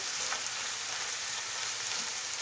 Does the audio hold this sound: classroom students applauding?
no